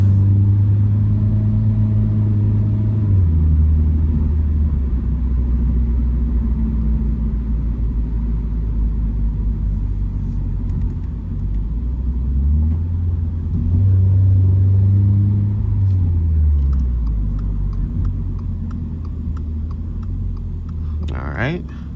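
Engine of a 2024 Toyota GR86 automatic heard from inside the cabin while driving, a steady loud drone with low hum rising and falling as revs shift, with a person talking over it throughout.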